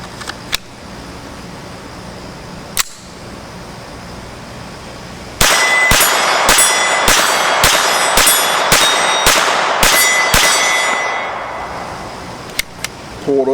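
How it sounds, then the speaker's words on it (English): The metal magazine of a SIG 226/22 pistol is handled and locked open, giving a run of loud, evenly spaced metallic clanks with ringing tails, preceded by a few scattered knocks. "Pull it open, lock it open. Lock it open, takes out."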